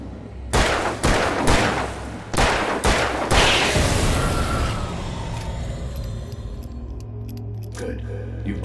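Alan Wake Remastered gunfire comes as a series of loud, close shots fired in quick succession, then fades into a lingering rumbling echo.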